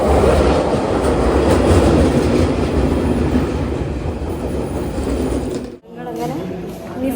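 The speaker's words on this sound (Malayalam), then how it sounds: "അണ്ടർഗ്രൗണ്ട് ട്രെയിനിൽ ഭയങ്കര സൗണ്ടാണ്, സൗണ്ട്" A London Underground Northern line train pulls in with loud, continuous rumble and rattling wheels on track, the roar staying strong throughout before a brief dip and a sharper screeching, squealing pass near the end.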